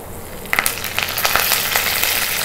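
Curry leaves and fenugreek seeds drop into hot oil and crackle into a steady sizzle, with a few sharp pops at the start, close and fairly loud.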